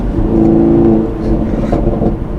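A 2019 Chevrolet Camaro SS 1LE revs up, its V8 exhaust giving off a loud, steady, deep rumbling drone that rises and falls slightly over a couple of seconds, heard from inside the car.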